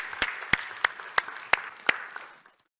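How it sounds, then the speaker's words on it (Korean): A church congregation at an Easter special dawn revival service claps for a very young child, with a handful of sharp, separate claps standing out over softer scattered clapping before it fades to silence. "박수하겠습니다"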